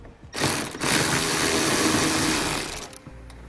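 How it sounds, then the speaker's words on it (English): A ratchet fitted with a 10mm socket turns out a fender bolt in the wheel well of a 2017 Jeep Cherokee, a loud, close, fast continuous clicking that runs for about three seconds and then ends in a few scattered clicks. "You're going to want to grab a 10mm socket and we can pull it out."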